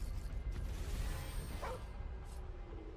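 A dog barks a couple of short, yelping times in the Viking strategy game Northgard, set against a soft whooshing game backdrop with no talking.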